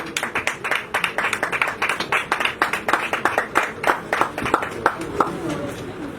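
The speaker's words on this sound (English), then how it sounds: "Please clap for ITC." A crowd applauds with steady, dense clapping that rises and falls in waves for several seconds, fairly close.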